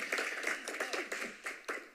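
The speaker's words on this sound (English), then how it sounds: "Let's give him a round of applause." Applause at a city planning commission meeting after someone is congratulated: a small room of people clapping in brisk irregular bursts, fairly close and moderately loud, with no talking.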